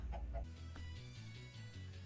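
Chickens cluck in the Minecraft video game, a few short clucks near the start and then faint background game sounds.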